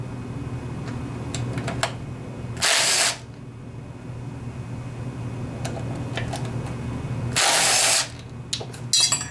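Ratchet loosening bolts on a Honda lawnmower engine: two loud bursts of rapid clicking ratcheting, each about half a second, separated by quieter handling noises and light tool clinks over a steady low hum.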